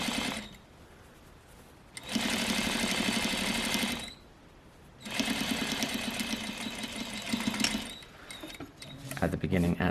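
A sewing machine stitches a flat fell seam in two bursts of rapid, even whirring, about two seconds each. Quieter pauses separate them, and a voice speaks briefly near the end.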